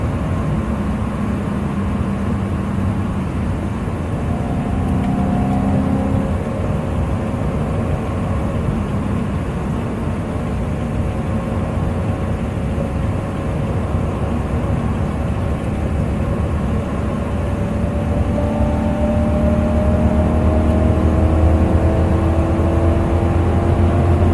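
Supercharged BMW E92 M3 engine pulling hard under acceleration, a steady loud drone with rising tones climbing across the run and no break in the noise.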